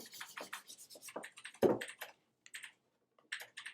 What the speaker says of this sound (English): transfer that ink by burnishing with the wooden spoon